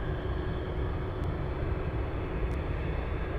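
A Delta Airlines Airbus A220 jet gives off a steady, broad engine roar at an airport in Anchorage, constant and moderately distant, with no voices.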